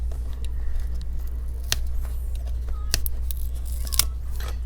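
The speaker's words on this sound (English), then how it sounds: "I'm just using a metal prying tool to pry open the two stickers" Metal prying tool working under the stickers on the base of an Asus UX305F laptop: a few short, sharp scraping clicks spaced over several seconds against a steady low hum, no talking.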